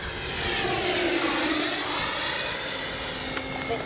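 A Freewing 80mm JL-8 radio-controlled jet flies straight and level at full speed, its ducted-fan engine giving a steady, loud high-pitched rushing whine that drifts slightly as it passes, with no talking.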